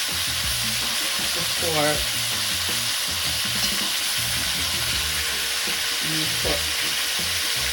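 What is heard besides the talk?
stirring cow foot stew in a pot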